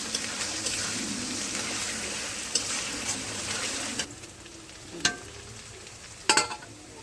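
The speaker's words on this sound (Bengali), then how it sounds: "এবার ভালো করে ভাজতে হবে।" Onion, garlic and ginger paste fry in a pan with a loud, steady sizzle. A few sharp scrapes and clacks of stirring break in, and the sizzle eases after a stir.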